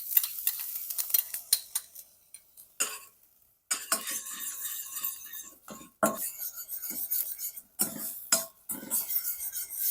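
Chopped onion frying in olive oil in a pan, steady close sizzling with frequent scraping stir strokes and brief pauses, no talking.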